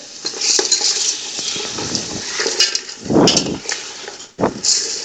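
A utensil mixes garlic, ginger and turmeric into meat cooking in a pot for tinday gosht, with scraping strokes, metal clinks and a soft sizzle, loud and close.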